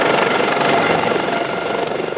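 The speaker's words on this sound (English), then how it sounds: "Pam was flown by Maryland State Police helicopter to the neonatal intensive care unit" A Maryland State Police helicopter flies close and loud, its rotor producing a rapid, continuous chopping thump that stays steady for the whole short stretch, with no voices over it.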